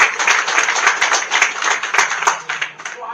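An audience applauds at a company branch opening ceremony, with dense, loud clapping from many hands that continues steadily and then thins toward the end.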